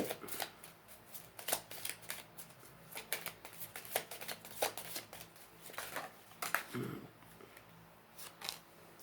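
Tarot cards being shuffled by hand, a run of quick papery riffles and flicks with soft taps between, close and fairly quiet, with faint low voice murmur in places.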